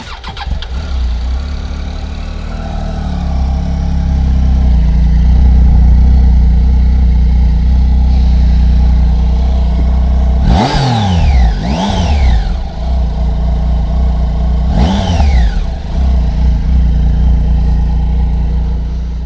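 A Triumph Tiger 800 XCA motorcycle engine starts and settles into a loud, close idle, then is revved sharply three times, each rev rising and falling away.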